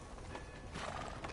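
Horse hooves clip-clopping in Red Dead Redemption 2, a steady run of close hoof falls with a whinny-like swell partway through, no talking.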